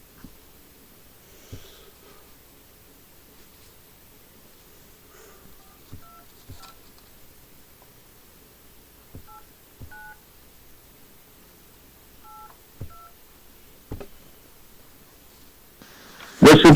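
Telephone keypad tones beep in short separated pairs and bursts as a phone number is dialed, with quiet room noise, soft breathing and a few light clicks between presses, ending in a louder burst.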